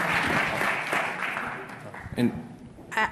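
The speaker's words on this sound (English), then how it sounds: "let's give all of these panelists a round of applause" Audience applause for panelists at a community event, clapping that fades over a few seconds and gives way to scattered sounds and a voice speaking.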